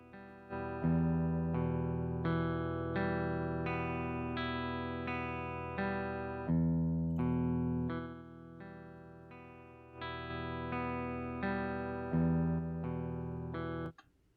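Chords strummed on an electric guitar through the clean channel of an Ignite Emissary amp, sustained and ringing, changing chord every second or two and ending in a sharp cutoff.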